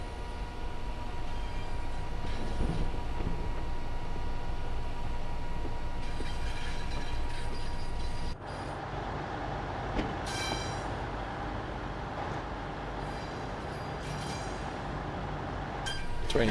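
A train from the Cardiff City Network add-on in the game Train Sim World 6 rolls along the West Coast Main Line with a continuous heavy rumble and rail noise, shifting in tone midway, with occasional faint clinks and no talking.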